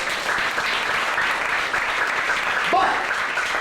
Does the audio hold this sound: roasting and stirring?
no